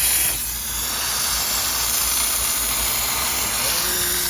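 A steam cleaner hisses steadily on a car's floor pedals and surrounding plastics, a loud, continuous airy spray close to the nozzle.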